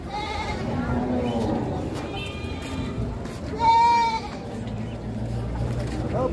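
Goats bleating at a livestock market in Padre Garcia, a couple of short bleats rising over steady crowd chatter and people talking nearby.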